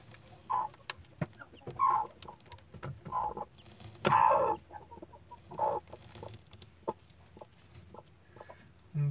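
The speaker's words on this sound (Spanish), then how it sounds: "Estos son hijos del Teo y de las gallinitas." Chickens and newly hatched chicks in a coop cluck in short, separate bursts, a hen's low clucks alternating with brief higher peeps, fairly close over a quiet background.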